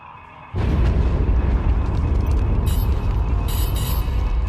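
Heavy starship omni cannons fire at a capital ship in the space-combat game SWTOR, a sudden loud booming onset giving way to a sustained, dense rumble of blasts with crackling bursts on top.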